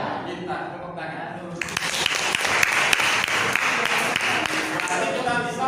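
Applause from a small group breaks out after a moment of talk and continues steadily to the end, with voices mixed in.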